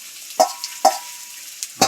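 Spiny gourd (kantola) fries in a pan, a soft steady sizzle with three or four sharper stirring scrapes at regular intervals, close and clear with no talk.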